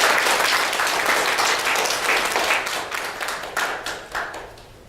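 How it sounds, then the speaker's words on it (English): Audience applause for panel speakers being introduced at a talk, a broad wash of clapping from many hands that holds steady and then thins and tapers toward the end, with no voices over it. "give them a big round of applause"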